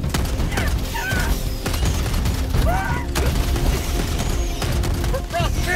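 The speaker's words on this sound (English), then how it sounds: "Man, I should run the shotgun more often, dude." Repeated shotgun blasts in the Helldivers 2 shooter game boom out one after another amid chaotic battle noise, with other gunfire and game voices mixed in.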